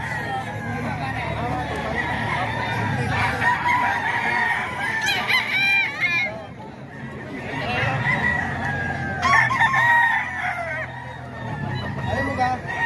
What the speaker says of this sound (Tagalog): Manok pa ni Sir JC.